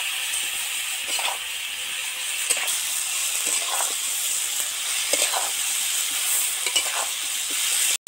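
A paste of cumin, coriander and chili fries in a pan with a constant sizzle and hiss, broken by repeated scraping strokes of a spoon as it is stirred slowly.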